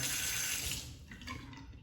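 Tap water running into a sink while a razor is rinsed during a shave, a close steady splashing gush that softens and thins toward the end.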